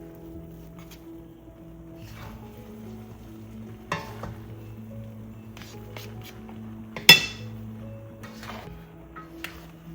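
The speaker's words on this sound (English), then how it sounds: "Let's give that a stir." Chicken pancit bihon noodles stirred in a hot pan crackle with a low sizzle, while a utensil scrapes and clinks against the metal in occasional sharp knocks.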